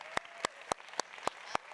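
Six sharp hand claps at a closing ceremony, evenly spaced about a quarter second apart, crisp and close, with no talking over them.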